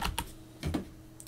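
Typing on a computer keyboard at a Linux Ubuntu terminal: a few quick bursts of key clicks, close and fairly soft, with brief pauses between them.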